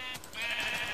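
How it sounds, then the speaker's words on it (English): A single sheep bleat from Minecraft, a short wavering nasal cry lasting about a second, close and clear with no talk. "These sheep are useless."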